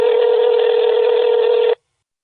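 A modern telephone ringback tone sounds while a call rings, one steady buzzy electronic tone held for under two seconds and then cut off into silence, loud and alone.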